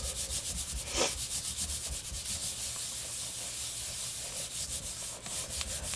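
Paper pressed and rubbed by hand onto an inked gelli printing plate, a soft continuous scuffing and brushing close by that runs steadily throughout with no voices.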